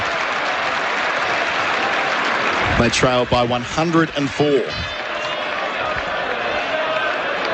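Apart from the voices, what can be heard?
cricket crowd applauding a dot ball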